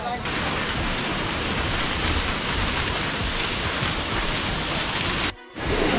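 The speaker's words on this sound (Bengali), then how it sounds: "এটা হচ্ছে 7 সিস্টার ওয়াটারফলস" Seven Sisters Waterfalls in North Sikkim, a tall cascade pouring from high up, roars as a loud, steady broadband rush, broken by a brief dip near the end.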